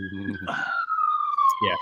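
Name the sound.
siren passing outside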